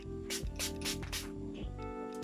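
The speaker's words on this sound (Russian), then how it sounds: "я сейчас попробую спрейчиком вот этим увлажниться" A moisturizing spray misted onto skin, a few quick broadband hissing bursts in a row, close and fairly quiet over a steady low hum, with no talking.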